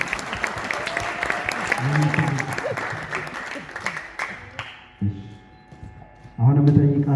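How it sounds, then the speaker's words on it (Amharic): Wedding guests applauding during a church vow ceremony, with clapping under and between a speaker's voice and a sung or chanted response, ending in a louder burst of applause. "አጨብጭቡ።"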